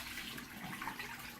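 Soaking water poured out of a basin holding wool diaper covers, a steady close splashing gush with no pauses throughout.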